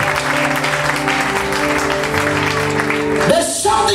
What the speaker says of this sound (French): Clap better, clap better, clap better.